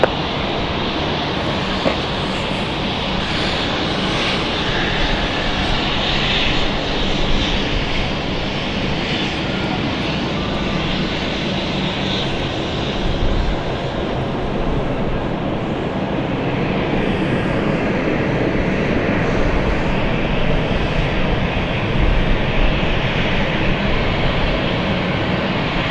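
An aircraft taxis to stand 3 at London City Airport, heard as a loud, steady engine roar that holds nearly level throughout, with faint voices mixed in underneath.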